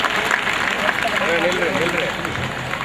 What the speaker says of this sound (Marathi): हा सुंदर असा सोहळा तुम्ही बघून सर्वांनी टाळ्या